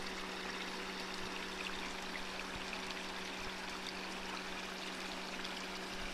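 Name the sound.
water running from a roadside drinking fountain, Rhodopes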